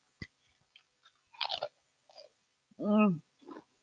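Crab meat being chewed close to the mic in a mukbang: a few soft wet crunches and smacks, followed by a drawn-out hummed "mmm" of pleasure and one last faint mouth sound.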